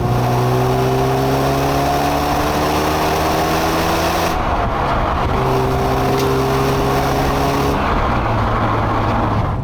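A 1992 Porsche 968 drives along a poorly patched road in Scotland, its engine note loud and steady from inside the car, with pitch shifts at two gear changes and a continuous road roar.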